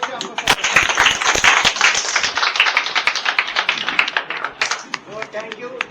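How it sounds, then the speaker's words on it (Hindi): A crowd applauds at the opening ceremony of a Moral Group of Companies branch in Dadar, with steady, close, lively clapping running throughout alongside chatter and voices. "तो उनका भी जोरदार तालियां"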